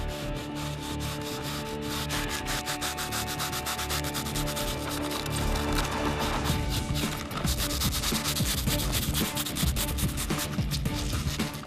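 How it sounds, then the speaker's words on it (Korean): Cured urethane foam filler in the hollow trunk of a 300-year-old village tree is trimmed to the tree's shape with a continuous, loud, close rasping and scraping that stays even throughout, with no talking. "충전이 끝나고 나면 나무의 형태에 따라 우레탄을 다듬어 주는데요"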